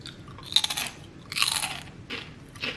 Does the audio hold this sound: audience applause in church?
no